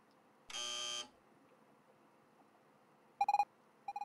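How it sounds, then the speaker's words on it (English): A harsh electronic buzzer in the video game Evoland 2 sounds once for about half a second, followed after a pause by two short bursts of rapid synthetic beeps. "When you hear the buzzer, move to the right."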